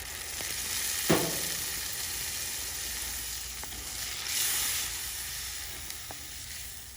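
Tamarind water splashes sharply into hot oil for bitter gourd curry, bursting into steady sizzling and hissing that continues at a moderate level, with a few small clinks of a utensil.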